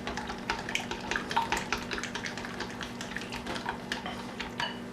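Comeback sauce being stirred by hand after lemon juice and olive oil go in, the spoon clinking and scraping against the bowl in quick, busy strokes with a wet, sloshing texture, close and steady throughout.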